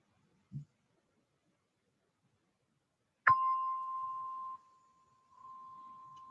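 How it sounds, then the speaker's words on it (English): A gong or meditation bell is struck once to close a meditation session, giving a sharp strike followed by a long, steady ringing tone that fades, then sustains faintly, with a soft knock beforehand in otherwise quiet surroundings. "as you hear gong, come out from your practice."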